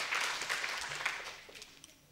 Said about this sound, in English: Can you all give him a big round of applause, please?